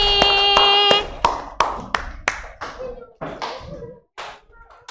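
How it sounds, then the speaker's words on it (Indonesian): Children clap their hands together in a class, a quick burst of sharp claps followed by scattered, decaying claps and taps, fairly close, with a bright tone ringing at the start. "tepuk tangan untuk anak Umi semuanya hari ini"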